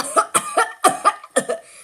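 A rapid series of about seven harsh, throaty coughs in close succession, near and loud, with no talking.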